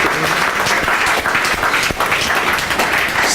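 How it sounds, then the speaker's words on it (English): An audience at an integrity and ethics dialogue applauds its panel, a dense, sustained burst of many hands clapping at once, loud and steady throughout. "Let's give our panel a big round of applause."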